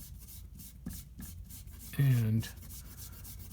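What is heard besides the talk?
kneaded eraser buffing pencil sketch on paper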